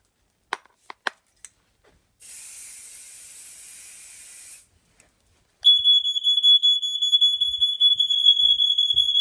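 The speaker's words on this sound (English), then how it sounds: "Second smoke alarm is also located on the landing of the second floor." A loud, sustained high-pitched alarm tone blares continuously, preceded by a few sharp clicks and a burst of hissing spray.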